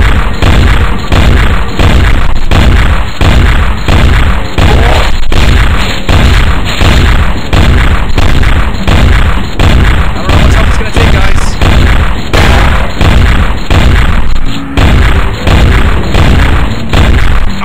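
Rapid, loud booming bursts of gunfire and explosions in a video game shootout, repeating in a steady, heavy rhythm throughout, dense and close.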